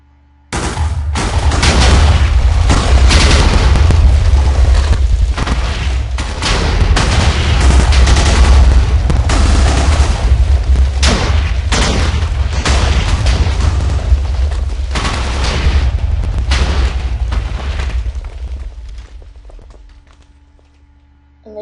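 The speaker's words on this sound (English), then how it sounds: "the result of that amazing explosion" Massive chain of 400 TNT blocks detonating in a block-building game, a dense, continuous roar of overlapping booms and blasts sustained for nearly twenty seconds before fading out.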